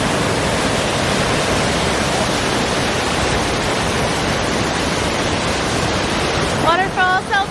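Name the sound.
waterfall near Skagway, Alaska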